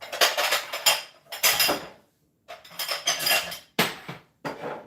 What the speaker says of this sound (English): Bang out a couple dishes here.